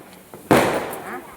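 A single loud Diwali firecracker bursts with a sharp crack and a decaying rumble, preceded by a faint pop.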